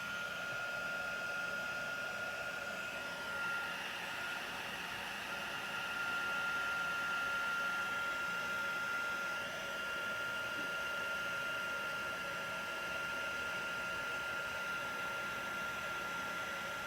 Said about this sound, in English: let's get out the heat tool,